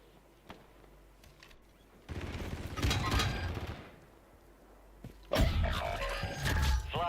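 SMG gunfire in a video game comes in two loud bursts of rapid shots separated by a quieter stretch, close and dense, with faint game noises between the bursts.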